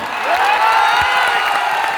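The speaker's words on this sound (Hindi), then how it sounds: "एक बार मोतिहारी की तरफ से खान साहब का जोर से ताली बजाकर" A crowd in Motihari claps and cheers loudly in a dense, steady roar to welcome Khan Sir, with whoops rising above the applause.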